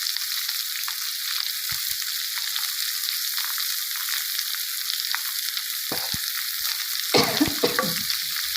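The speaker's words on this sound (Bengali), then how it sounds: "আমার পেঁয়াজটা একটু ভাজা হোক।" Onions frying in oil in a pan alongside rupchanda (pomfret) fish fry, a steady continuous sizzle throughout with brief stirring scrapes and clatter near the end, close and moderately loud with no talking.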